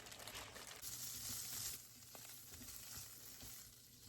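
Chorizo sizzles in a frying pan, a close, steady crackling fry that is fairly quiet and continuous.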